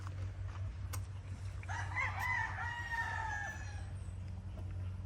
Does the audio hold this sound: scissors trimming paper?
no